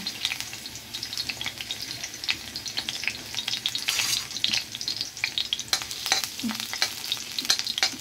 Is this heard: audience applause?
no